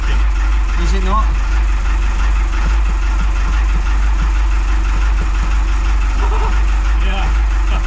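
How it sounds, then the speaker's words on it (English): The inboard engine of an abandoned sailing yacht under restoration idles steadily after starting, a constant low drone that runs through the whole stretch. Voices and faint clatter sound intermittently over it. "The plan now is to run the engine for a good while, let the engine warm up."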